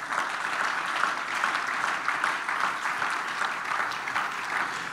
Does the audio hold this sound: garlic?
no